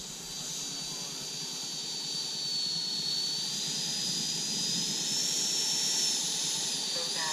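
An FMS 80mm EDF F-22 model jet flies by with a steady, loud ducted-fan whine and hiss, its pitch sliding up and down as it passes, with faint voices underneath.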